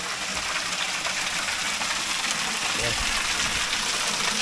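Water gushing from an unknown source, a steady, close rushing noise that holds at an even level throughout without a pause.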